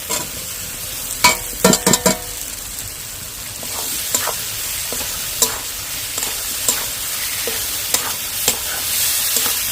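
Fried potatoes stirred into sautéed masala in a pan for ghugni: a cluster of quick scraping stirs early on, then intermittent spoon scrapes over a continuous sizzle.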